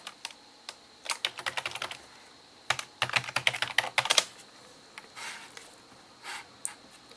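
A password is typed on a computer keyboard in quick bursts of close, crisp key clicks, with short pauses between runs and a few final taps.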